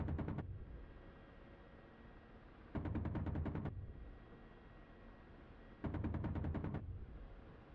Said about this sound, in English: We'll fire some more shots.